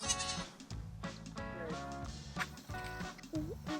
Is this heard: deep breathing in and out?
no